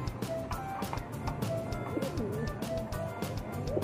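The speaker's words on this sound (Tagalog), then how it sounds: "Yan mga kalapatid." Pigeons coo softly in a breeding loft with nest bowls of sea sand, with low repeated cooing calls over a steady background hiss and light rustling.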